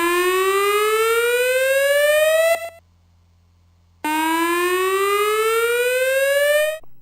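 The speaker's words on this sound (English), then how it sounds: "The take shelter signal sounds like this." A loud electronic take-shelter warning siren in a building sounds a rising, whooping tone that sweeps steadily upward, breaks off for about a second and a half, then repeats the same climbing wail.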